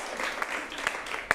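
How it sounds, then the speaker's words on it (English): A comedy-show crowd at an improv theater applauds in a short burst of mixed clapping, with a few sharp individual claps standing out and light voices mixed in. "Give yourselves a big round of applause for supporting live"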